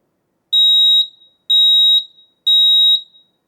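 An X-Sense wireless interlinked smoke alarm sounds its test signal: three loud, piercing, high-pitched beeps of about half a second each, evenly spaced, close and alone with no talk.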